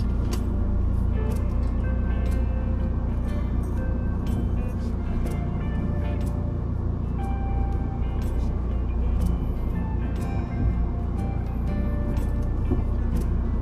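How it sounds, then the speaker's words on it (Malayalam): A parked car that has sat idle through lockdown is backed out with its engine running, giving a steady, close, low rumble with a faint tonal hum throughout and no talk. "നമുക്ക് ഇനി ഒന്ന് ബാക്കിലോട്ട് ഇറക്കിടാം വണ്ടി"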